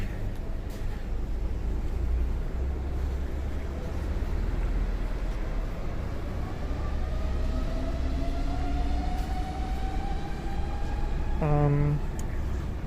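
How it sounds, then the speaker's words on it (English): A Tama monorail train passes along its elevated track in Tokyo, a steady rumble with a rising whine that builds through the pass, heard from the street amid broad outdoor noise. "Here's the Tama monorail."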